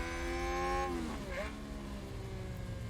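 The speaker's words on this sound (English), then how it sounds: "has he got cars going past him?" Race cars in F1 Manager 2022 pass by, with a loud engine whine that sweeps down in pitch as a car goes past, then another engine tone falls away, under a steady background rumble.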